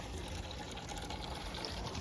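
Water is gathered outdoors for watering plants, pouring and splashing into a container in a brief, fairly faint continuous gush.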